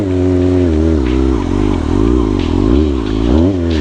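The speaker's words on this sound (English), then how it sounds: "It's my favorite bike for circle wheelies" A motorcycle roars loudly and steadily while riding in circle wheelies, its engine note rising and falling in waves as the throttle is worked, close and continuous with no voices.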